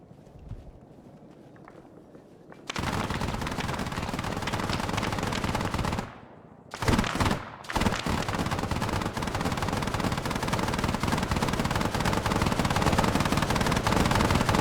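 SKS rifle fire in a video game crackles in rapid, sustained bursts over a dense roar of battle noise, dropping out briefly near the middle and then resuming just as loud.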